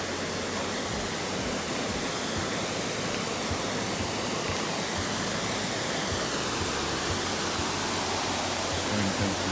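Waterfall at Little Niagara, a loud, dense and constant rush of falling water filling the whole clip without letup.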